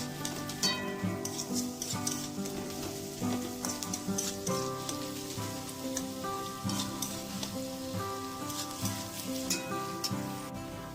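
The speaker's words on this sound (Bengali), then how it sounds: "এবার এটাকে আমি লো টু মিডিয়াম ফ্লেমে একটু নাড়াচাড়া করে হালকা একটু লালচে ভাব করে" Onions sizzling and frying in a little oil over a low-medium flame for a Bengali rui fish dish, a steady crackling hiss with soft scraping stir strokes throughout, close and continuous.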